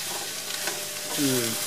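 Broccoli and mixed vegetables cook in a slightly too small pan, giving a constant sizzle under soft scraping stirs, with a brief squeaky tone from the pan near the end.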